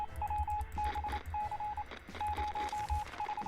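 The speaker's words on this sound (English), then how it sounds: "the radio's ringing" In the survival video game 60 Seconds, a radio rings with short, even electronic beeps grouped in repeated bursts. A low, muffled background hum runs underneath.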